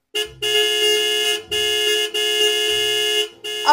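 Car horn in a Sakura School Simulator game scene, three long sustained honks with short gaps between them, loud and close, with no voices over them.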